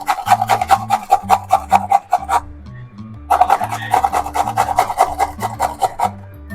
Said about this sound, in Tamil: பீட்ரூட் வந்து நல்லா கிரேட் பண்ணிடுவோம்.